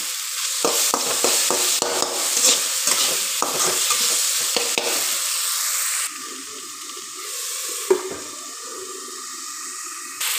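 Tomatoes frying in a pan, stirred, for a simple bhindi palya: steady loud sizzle with repeated scraping strokes of a spoon for the first half, then a smoother continuous hiss with a brief clatter near the end.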